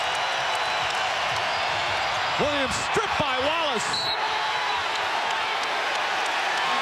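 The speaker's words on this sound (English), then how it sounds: "This crowd going berserk here at the TD Garden" Basketball arena crowd at TD Garden during a Celtics–Cavaliers playoff game roars steadily in a dense wall of noise, with a commentator speaking over it and squeaky sneaker sounds cutting through briefly.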